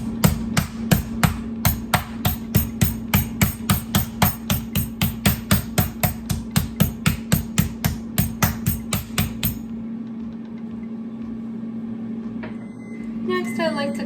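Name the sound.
meat tenderizer pounding chicken thighs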